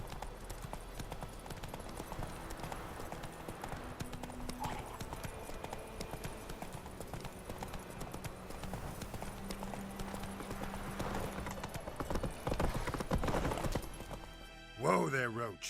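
Hooves of Geralt's horse Roach in The Witcher 3, a steady clip-clop of riding under ongoing dialogue and game ambience, ending with a whinny.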